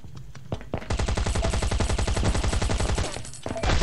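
Rapid automatic gunfire in a video game, a loud, close, even stream of shots lasting a few seconds, then a short pause and a final burst.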